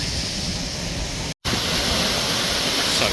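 Water rushes steadily into a canal lock section, a broad, even roar that cuts out for a moment and then resumes at full strength.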